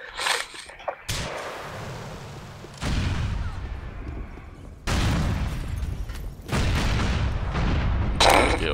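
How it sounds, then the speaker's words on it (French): Loud explosions in GTA IV multiplayer, several sudden booming blasts a few seconds apart, each followed by a long rumbling decay, with no talking over them. "Oh, j'ai tout fait péter."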